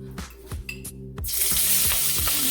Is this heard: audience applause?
no